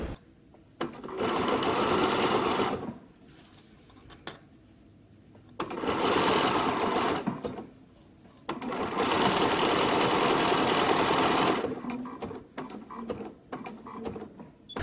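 A sewing machine stitches open-weave fabric for a caftan cover-up in three long, steady bursts of motor whir, separated by short pauses and light handling noises, close and fairly loud with no talking.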